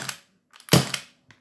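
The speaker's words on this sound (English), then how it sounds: "So if I fire off the Mk23" Mk23 airsoft gas pistol fires, giving a sharp mechanical crack with a brief metallic clack before it, then a faint click afterward, close and alone.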